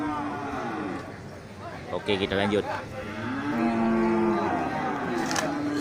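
Cattle at a livestock market moo in long, loud, drawn-out calls, one near the start and a longer one later, while someone talks between and over them.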